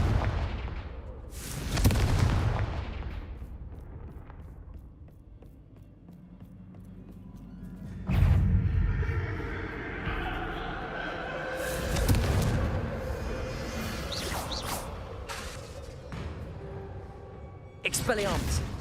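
Confringo fire spells blasting in Hogwarts Legacy, several booming impacts spaced across the stretch amid battle noise, each with a rough rumbling tail.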